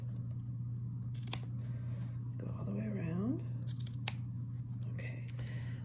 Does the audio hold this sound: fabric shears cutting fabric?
yes